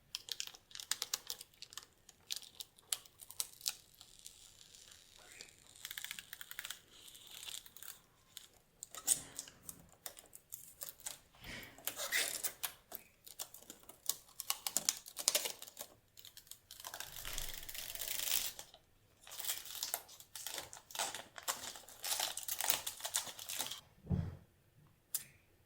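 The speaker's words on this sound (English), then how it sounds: "we are going to do the peels and peel off all the plastic on my new computer" Protective plastic film is peeled off a new Alienware Aurora R8 desktop computer, producing bursts of crinkling, tearing and crackling rustles in irregular clusters, close and fairly quiet, with no talk.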